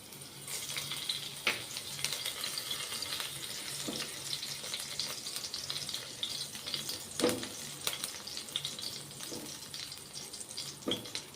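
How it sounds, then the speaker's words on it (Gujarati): Chili pieces sizzle in a small amount of hot oil for tempering, a steady soft frying hiss with occasional scraping and clattering of a spoon against the pan. "સૌપ્રથમ મરચાંની કટકી એડ કરશું."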